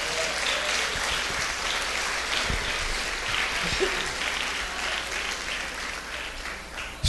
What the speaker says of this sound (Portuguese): Se você crê, mais uma vez aplauda o nome dele.